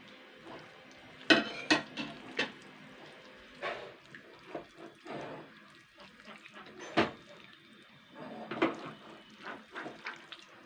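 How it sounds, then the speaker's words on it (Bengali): Leftover cooked rice mixed by hand with Maggi masala seasoning gives soft, squelchy rustles and pats in uneven bursts, close and fairly quiet. "এবার আমি এটাকে আগে ভালো করে হাত দিয়ে আগে মিশিয়ে নেবো"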